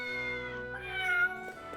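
A cat meows in the video game Triangle Strategy, a drawn-out, tonal call that rises and then falls, with one or two short follow-up mews near the end, heard alone and fairly close.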